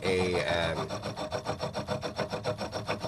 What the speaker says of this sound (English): so right now it's turning a belt wheel